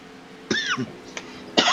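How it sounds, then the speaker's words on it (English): A single close, sharp cough with a rasping throat-clearing tail, followed by a second harsh burst a moment later, loud against quiet background. "I didn't mean to cough in your ear, guys."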